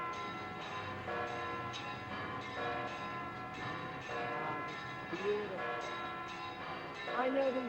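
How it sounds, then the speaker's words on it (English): Large church bells chime from a hilltop church in Spain, a steady series of rhythmic metallic strikes ringing out loudly with sustained overtones throughout. "But those are the big bells that they're chiming right there."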